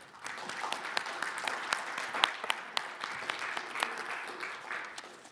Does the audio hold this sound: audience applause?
yes